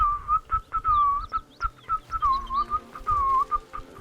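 A character in Baldur's Gate 3 whistles a short, wavering tune alone, close and clear, in quick phrases with brief pauses.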